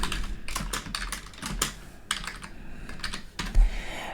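Fast typing on a computer keyboard, close and clear, with quick irregular key clicks in bursts separated by brief pauses.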